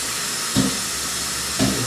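Water poured into a still-hot pot while making acorn squash soup hisses and sizzles in two short bursts over a steady background hiss, close and moderately loud.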